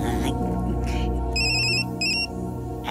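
A mobile phone ringtone chirps in two short electronic bursts over a loud, droning musical background in a Bollywood comedy film scene.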